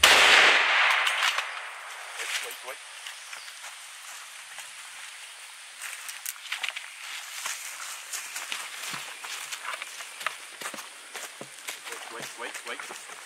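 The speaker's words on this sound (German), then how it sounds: "Jetzt muss schnell geschossen werden." A single loud rifle shot from a Mauser M 98 Magnum at a buffalo on a hunt in Mozambique opens the moment and decays quickly. Faint rustling, footsteps and low voices follow outdoors.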